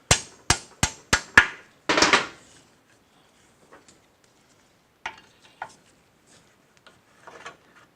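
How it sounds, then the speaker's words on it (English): Front axle slid through the wheel of a 1983 Kawasaki GPZ-550 in a garage, starting with a run of sharp metallic knocks, then a grinding scrape, followed by scattered faint clicks and light taps. "And then we'll send the axle through."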